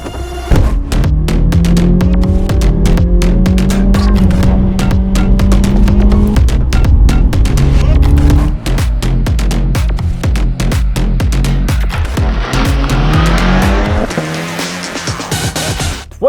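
A 2021 Mini John Cooper Works GP with launch control drives hard. A loud engine rises and falls through several gear changes, with tire squeal and throbbing exhaust close by.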